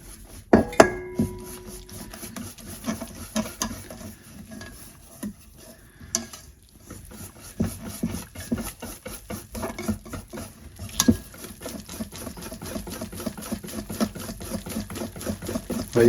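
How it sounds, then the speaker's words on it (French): Crêpe batter being whisked in a bowl as flour is worked in little by little, soft irregular tapping and stirring clicks with a few sharper knocks against the bowl, fairly quiet. "On continue d'incorporer petit à petit."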